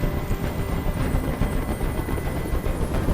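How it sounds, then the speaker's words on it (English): A helicopter hovering nearby during a hostage standoff in the video game Detroit: Become Human, heard as a dense, continuous rotor throb with rapid chopping under the noise and no talk. "I can't stand that noise anymore. Tell that helicopter to get out of here."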